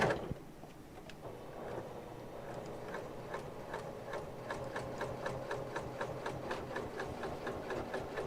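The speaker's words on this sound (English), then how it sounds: "it's going to sew the wrong side and the right side together with this binding strip" A sewing machine stitches a fabric binding strip, joining the wrong and right sides, its needle tapping in a fast, steady mechanical rhythm close by with no talking.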